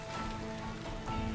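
Rain falls in the Farmer's Dynasty video game, a brief, even patter of drops on surfaces with a low, constant hum beneath and no voices.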